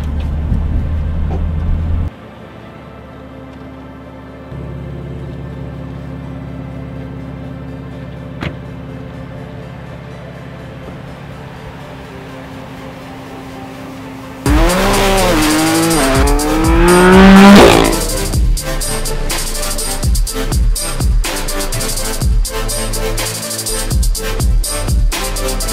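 BMW M3 and M4 on track with a performance brake system: a loud engine howls and revs hard, then tires squeal briefly under heavy braking, with engine surges continuing after a quieter cabin stretch at the start.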